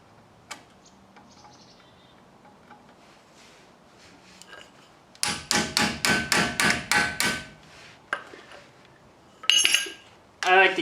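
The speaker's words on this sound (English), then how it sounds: "we'll take off the cotter pin." A cotter pin is worked out of the front brake of a 1991 Toyota Pickup with a quick burst of about eight sharp metallic taps, followed by a few scattered clinks, close and fairly loud.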